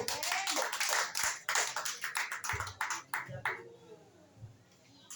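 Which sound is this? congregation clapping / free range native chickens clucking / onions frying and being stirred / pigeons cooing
congregation clapping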